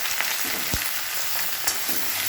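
Ridge gourd and potato with slit green chillies and nigella seeds frying in oil, a loud steady sizzle broken by a couple of quick scraping stirs of a spatula.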